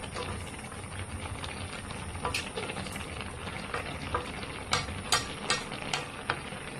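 Leafy greens frying in a pan over low gas, with a steady quiet sizzle and bubbling under occasional stirring clinks and scrapes, a few sharper taps near the end; no talk.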